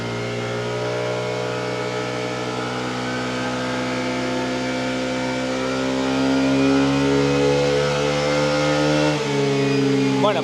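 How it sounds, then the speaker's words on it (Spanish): A Keeway XDV 125 motorcycle engine revs hard and continuously on a dynamometer with a buzzing, harmonic roar, growing louder partway through and holding high, then dropping abruptly near the end. "este ha sido el último acelerón para limpiar culata"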